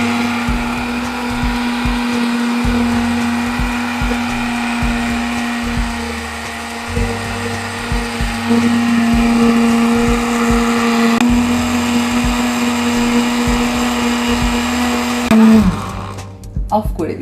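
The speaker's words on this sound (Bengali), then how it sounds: "আমি আবার ব্লেন্ডারটা অন করবো।" A kitchen blender whirs loudly and steadily while blending mango juice, its motor pitch shifting slightly partway through before it winds down and stops near the end.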